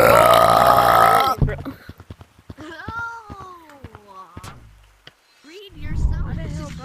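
Loud, close burps break out among young men, a long drawn-out belch followed by shorter ones, with talk and laughter around them.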